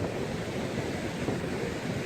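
Ocean surf washing in on the shore at Bandon, a steady broad roar of waves with wind buffeting the microphone, continuous and fairly loud with no talking.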